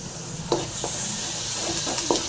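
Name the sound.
raw banana with crushed garlic frying in pan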